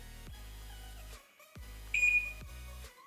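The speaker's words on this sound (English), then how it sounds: "So you need to set the alarm and the quad will turn off." Electronic alarm tones from an Eco Warrior S8 electric quad bike as the alarm is set, with steady sustained beeping that pauses briefly and then resumes, including one louder, sharper chirp; no talk.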